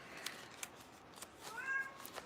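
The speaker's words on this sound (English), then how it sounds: "What you meowing about?" A cat gives a soft, drawn-out meow, faint and close, with a few light clicks and taps around it.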